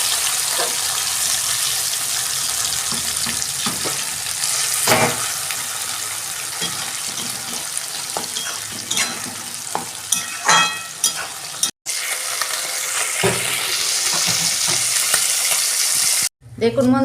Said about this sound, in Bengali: এইরকম করে আমি মাছগুলো সব ভেজে নেবো